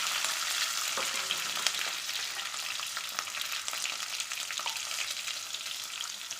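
Sambar shallots frying in hot oil, a dense, steady crackling sizzle with scattered pops that carries on throughout with no voices over it.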